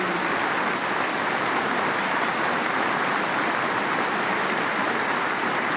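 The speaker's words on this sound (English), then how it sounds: "A warm round of applause" A stadium crowd at the 2015 Munster hurling final between Tipperary and Waterford gives a sustained round of applause, a dense, even wash of clapping that stays at the same loud level throughout, with no talk on top.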